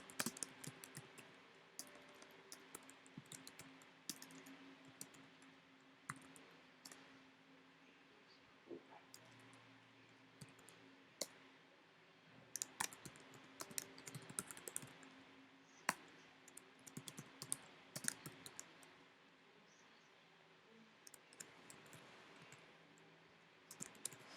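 Computer keyboard typing while entering employee names into an Excel spreadsheet: scattered bursts of close, quiet key clicks with irregular pauses over a low background hum.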